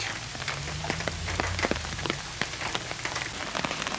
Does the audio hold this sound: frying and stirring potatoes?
no